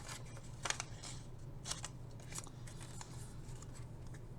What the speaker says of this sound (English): I'm just going to go ahead and cut it out with my scissors